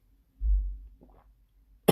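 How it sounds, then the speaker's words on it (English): A single close, sharp cough bursts out at the very end, after a soft sip or swallow, while someone drinks salted and sweet caramel cream tea. "I was coughing right in the middle of a sip."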